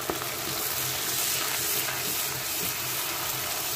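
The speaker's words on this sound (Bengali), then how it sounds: "এখন এই মশলাগুলো আমি একটু কষিয়ে নেব।" Spices with turmeric powder, red chili powder and salt fry in a pan as a base for spicy fried eggplant with rohu fish roe, giving a steady close sizzle with a faint stirring clatter and no talk.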